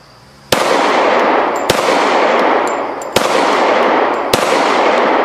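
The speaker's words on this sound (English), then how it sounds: "It's just me messing around, shooting too fast." Four sharp rifle shots fired in fairly quick succession at targets outdoors, each crack loud and close with a long rolling echo trailing into the next, no talking.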